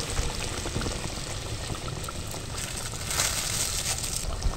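Water is poured into a paneer curry cooking in a pan, giving a steady, close splashing hiss that swells briefly near the end, with no talk.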